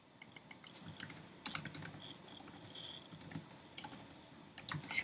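Keys clatter on a computer keyboard as text is typed, in quick irregular clusters of close, light clicks with short pauses in a quiet room.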